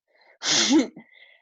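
One sharp sneeze bursts out, slightly muffled as if from another room, with faint breathy sounds just after.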